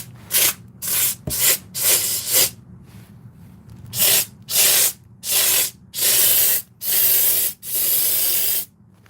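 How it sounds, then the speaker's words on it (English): Repeated bursts of loud hissing from a spray foam insulation can come close up in an attic, short at first and then longer, separated by brief pauses. "I'm going to show you how good this spray foam stuff works."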